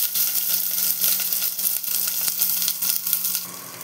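Chopped onion frying in hot oil with nigella seeds, a steady close hissing sizzle with faint crackles throughout.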